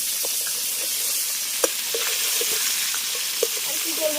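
A fish head fries crisp in hot oil, giving a loud, steady sizzle and hiss with a few small pops and a stirring scrape or two, close and continuous.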